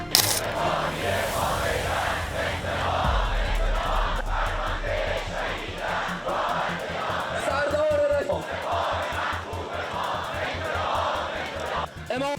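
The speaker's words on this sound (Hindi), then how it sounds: "जामकरण मस्जिद के बाहर हजारों लोगों की भीड़ इकट्ठा हुई और इजराइल को खत्म करने के नारे लगने लगे" A large crowd outside Jamkaran mosque in Iran chants slogans in loud, rhythmic bursts of many voices, continuing throughout with shouts rising over the mass of sound.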